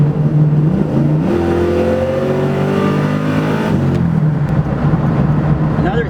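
A 1968 Chevrolet C10 pickup's loud, throaty exhaust revs through the muffler with rising pitch, drops back, then keeps rumbling steadily, close and continuous.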